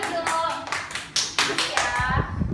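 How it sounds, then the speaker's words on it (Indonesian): Schoolchildren clap for classmates in a classroom during a practice religious-ethics lesson, a short burst of sharp, uneven claps close by, with a few light taps trailing off at the end. "Tepuk tangan kepada Rida, Mas Hafiz, dan Caca"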